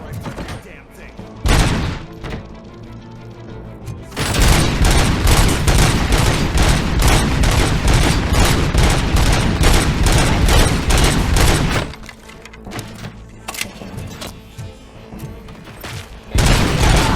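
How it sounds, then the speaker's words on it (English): Loud, rapid gunfire in RoboCop: Rogue City, long sustained machine-gun bursts with heavy booming impacts, pausing briefly before the firing resumes near the end. "Just keep shooting."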